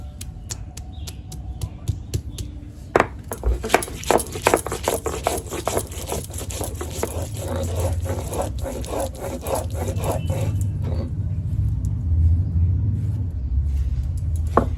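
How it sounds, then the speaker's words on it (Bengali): Ginger and cumin ground together into a paste on a grinding stone, a close series of scraping, rubbing strokes that comes in quick bursts at first, then fades into a softer, steady low rumble with no voices. "আদা জিরে একসঙ্গে বেটে নেব"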